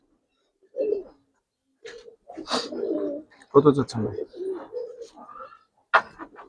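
Giribaz colouring pigeons coo in short, separated bursts nearby, soft throaty calls spaced across the moment, with a voice speaking between them.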